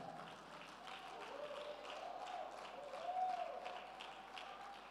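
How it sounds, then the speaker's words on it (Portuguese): A church congregation claps for their pastor, a steady wash of applause that holds for several seconds and swells briefly near the end, with a voice speaking over it. "vamos aplaudir a nossa pastora"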